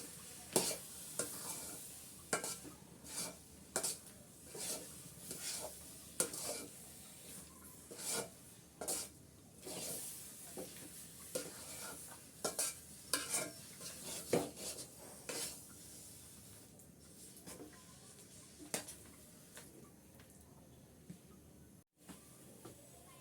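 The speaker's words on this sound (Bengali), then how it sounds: "দিয়ে ভালো করে আমি আবার মিক্স করে নিচ্ছি সব" Olive pickle with spices is stirred in a sizzling pan, with a spoon scraping and clinking in a steady, repeated rhythm over a low, continuous frying hiss. The sound is quiet and close, with no voices.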